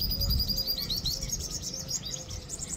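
Various birds call beside a desert pond in the Thar region, with repeated high chirps and tweets continuing steadily at moderate distance over a soft outdoor rumble.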